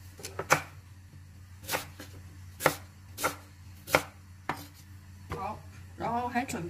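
A knife slicing sweet potato into thin pieces on a cutting board, sharp separate chops at an uneven pace, close and fairly quiet, with a brief murmur of voice near the end.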